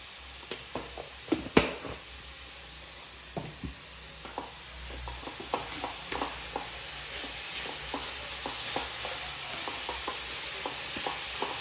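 A spoon stirs a frying mixture in a pan during dosa and paddu preparation, soft sizzling throughout with irregular scraping knocks, close and moderately loud, no talking.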